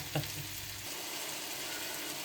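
Nearly cooked meat sizzles steadily in a pan, a soft continuous hiss heard close up, with a brief low clink at the start.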